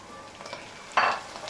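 Masala of ginger, green chillies and tomatoes frying in a pan for biryani, a soft sizzle with a sudden louder burst of stirring sizzle near the end.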